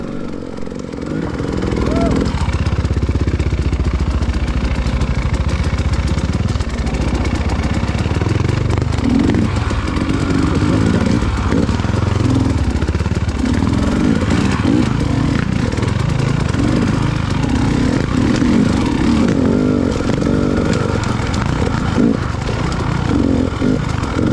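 Motorbike engine running steadily and loud throughout a winter single-track ride across a bridge, droning close by with a rough, constant mid-low rumble and slight throttle shifts.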